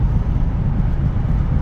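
A DIY electric car converted from a BMW cruises at highway speed, giving a steady low road and wind rumble inside the cabin, loud and unbroken, with no talking.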